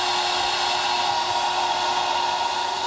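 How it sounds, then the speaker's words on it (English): A vacuum pump running for a PCB milling vacuum chuck gives a steady, loud, continuous whine with a constant hum, unchanging throughout and heard alone. "this time I've got the vacuum pump on, so we'll see how much better it is."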